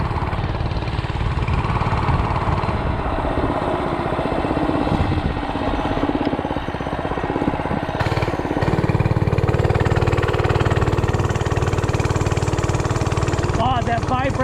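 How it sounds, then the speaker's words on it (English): A 105cc mini bike engine idles steadily during its break-in, a continuous loud close chug with slight changes in pitch partway through, and someone talks over it. "Basically just idling"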